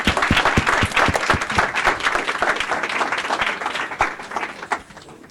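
Applause from an audience at a speaker event, dense and loud from the start, with a few sharp individual claps standing out before it slowly thins.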